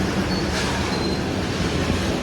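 A train running with a loud, steady rumble of wheels and carriage noise from on board, dense and continuous throughout, with no voices.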